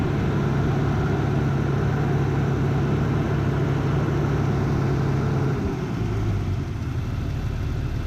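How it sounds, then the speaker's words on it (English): A rebuilt 2000 Jeep 4.0L engine that is low on power at low RPM, idling with an even, continuous hum close by; its pitch drops a step near the end as the revs settle. "It's idling okay. I wouldn't even call it a rough idle"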